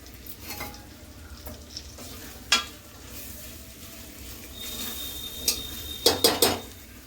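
Goat head curry (thalakaya kura) frying in a pan while being stirred, a soft steady sizzle broken by sharp metal scrapes and clinks of a spoon against the pan, loudest near the end.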